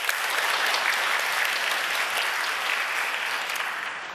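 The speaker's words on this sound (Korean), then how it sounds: "여러분들 박수 보내주시죠." A church congregation applauds during a Korean Sunday worship service at Kyungdong Church. Dense, sustained clapping fills the room evenly for several seconds and tapers slightly at the end, with no talking over it.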